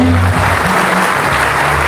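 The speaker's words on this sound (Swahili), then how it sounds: "Makofi pamoja na Bwana." Steady applause fills a memorial church service for a bishop's mother, a dense continuous clatter of many hands at an even, fairly loud level throughout, with low tones humming underneath.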